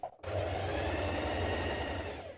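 A sewing machine stitches the shoulder seams of dress lining in one continuous fast whirring run after a brief pause, close and moderately loud.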